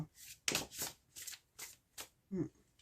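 A deck of cards shuffled and cut during a card reading: a series of close, papery riffling bursts in an uneven rhythm, with a soft thump near the end and no voice.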